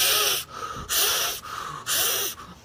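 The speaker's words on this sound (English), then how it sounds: "I'm doing it's called Wim Hof breathing" Wim Hof breathing: forceful, rhythmic inhales and exhales, three long loud breaths with brief pauses between them, close and alone.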